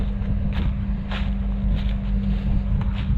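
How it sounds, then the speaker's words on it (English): Combine harvester engine warming up outdoors in a breezy field, a steady low idling drone with a constant hum, with occasional wind gusts brushing the microphone and no talk. "Combine's warming up."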